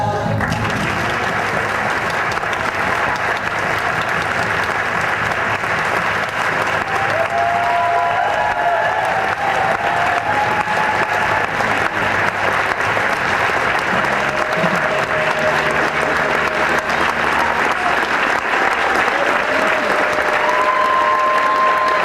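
Theatre audience applause, sustained and dense, with a crowd clapping throughout while faint voices and a few tonal sounds drift underneath.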